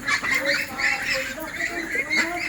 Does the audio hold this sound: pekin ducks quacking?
yes